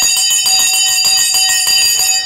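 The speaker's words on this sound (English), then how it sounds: "The bell has gone." Stock exchange closing bell ringing continuously at market close, a loud, steady electric clang with rapid repeated strikes throughout, no talk.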